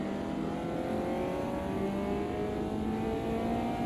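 A Caterham race car engine in a sim racing game, on cold tyres, holds a steady droning note with rising harmonic whine as it accelerates, loud and continuous with no talking.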